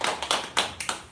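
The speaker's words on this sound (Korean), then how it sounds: "하나님께 영광의 박수 돌리겠습니다." Short burst of scattered hand clapping from a church congregation during a Sunday worship service, several uneven claps close by, brief and moderately loud.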